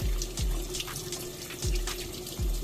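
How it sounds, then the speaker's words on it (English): Running tap water gushes steadily over a cleaned tilapia head and gills in a kitchen sink, with a few louder surges and splashes and no one talking. "we open up the gills and wash it out."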